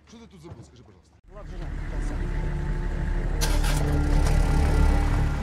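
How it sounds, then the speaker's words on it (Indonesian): Military cars, trucks and armored vehicles start up and drive off: a short burst of speech, then engines catch and swell into a loud, sustained rumble of several vehicles moving away. "hingga mobil, truk, dan armor mereka mulai dinyalakan dan berjalan"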